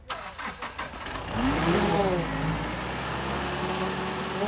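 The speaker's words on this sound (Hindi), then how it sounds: "अब हो रही है गाड़ी स्टार्ट" A Mahindra Bolero engine, serviced after its intake manifold was cleaned of heavy black deposits, cranks a few times and catches, then settles into a steady loud idle close by.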